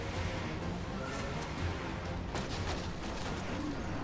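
Dense, continuous gunfire from the shooter game Destiny, with sharper bursts standing out midway through a steady wash of battle noise. The shots are loud and close, and no voices are heard.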